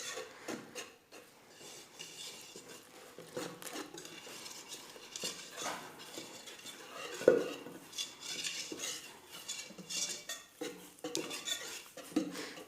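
Kaak dough being mixed by hand in a kneading trough, a steady close scraping and rubbing with occasional light knocks and clinks, no voices.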